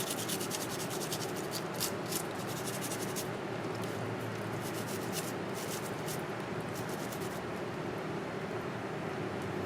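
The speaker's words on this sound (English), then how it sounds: "You want to scrub the excess mud out." Mangrove crabs being scrubbed to remove excess mud: a steady, close, continuous rubbing and bristly scraping that runs the whole time with no pauses and no voices.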